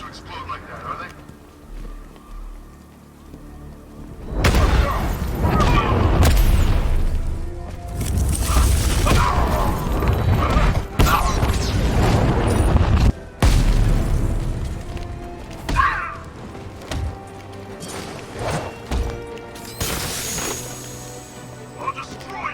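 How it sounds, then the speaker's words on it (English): Heavy booming explosions in Batman: Arkham Knight, a series of loud deep blasts and bursts with crashing debris and mechanical clatter rolling through, intermittent voices heard between the detonations. "These things aren't supposed to explode like that, are they?"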